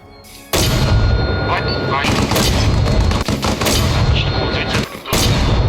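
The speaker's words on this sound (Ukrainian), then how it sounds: "Добре, зараз постріляємо ще трошки з міномета." Mortar rounds fired in Arma Reforger land as a series of heavy, booming blasts with rumbling tails, loud and close, punctuated by sharper cracks of gunfire.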